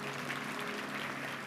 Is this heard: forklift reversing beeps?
no